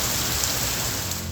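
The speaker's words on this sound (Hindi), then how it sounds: "कराची में मौसम सरमा की पहली बारिश" Steady first winter rain in Karachi pouring down on hard surfaces, a dense, even hiss of drops with no voices.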